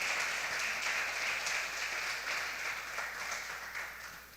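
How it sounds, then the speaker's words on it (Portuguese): A church congregation applauds during a celebration service, a steady wash of clapping from many hands that swells briefly and then gradually fades, with no one speaking over it. "Aplauda ao Senhor em nome de Jesus"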